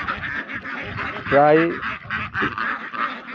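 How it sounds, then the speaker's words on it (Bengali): Large Beijing (Pekin) ducks on a riverside farm give a brief burst of loud, nasal quacks near the middle, set against steady speech from a person talking throughout. "চলে আসছি বড় বড় বেজিং হাঁসের জাত"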